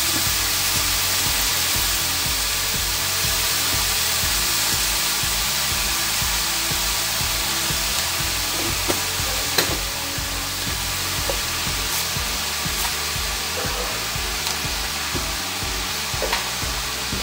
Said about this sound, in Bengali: ঢাকা দিয়ে দিয়ে নাড়তে থাকবো